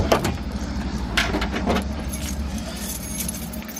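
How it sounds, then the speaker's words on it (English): A bunch of keys that includes an old Nissan key jangles in a few bright metallic bursts, close and fairly loud, over a low steady rumble from the surroundings. "oops, it's the other old Nissan key."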